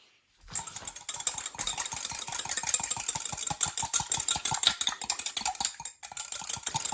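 A spoon stirs a small mixture of lemon juice, salt and pepper, giving a fast, steady run of light metallic clinks and scrapes against the dish, close and continuous with no talk.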